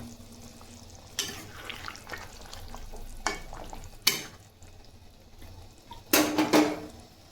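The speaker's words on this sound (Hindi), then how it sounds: "इसे हम थोड़ी देर खौलने देंगे।" Jackfruit kofta gravy bubbling and simmering in a pot on the stove, a low steady cooking hiss broken by several loud clanks and scrapes of a spoon against the pot, with no talking.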